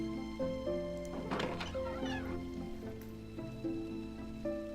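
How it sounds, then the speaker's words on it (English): In the Hero-U video game, a cat meows in a brief, drawn-out call in the middle of the clip, set against steady, sustained background music. "Kitty is saying something about Pooba"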